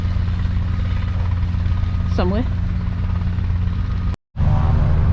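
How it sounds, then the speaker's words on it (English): A noisy helicopter drones steadily overhead on a brick-strewn beach at Splott, a continuous low rotor hum under brief speech, with a short rising whistle-like call and a sudden cut to silence near the end. "there's still a very noisy helicopter up there"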